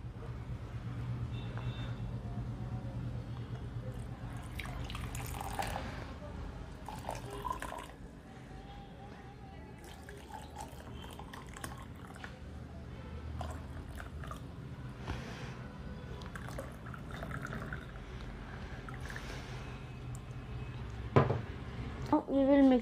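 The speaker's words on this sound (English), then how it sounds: "Now we'll add warm water to them." Warm water poured into glass containers holding lemon and potato pieces for a starch test, a soft splashing trickle running close by with small knocks and clinks, with a person talking over parts of it.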